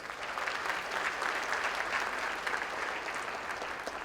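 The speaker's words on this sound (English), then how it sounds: "Give yourselves a round of applause." Audience applause at a 30-year anniversary celebration of the 100 Black Men organisation, a dense, steady wash of many hands clapping that holds at even loudness throughout.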